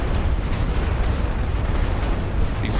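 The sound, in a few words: light artillery fire in The Great War: Western Front video game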